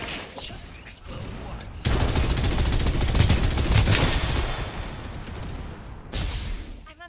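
Rapid automatic gunfire bursts in the Farlight 84 battle royale shooter, loud and dense for several seconds, with shorter bursts before and after.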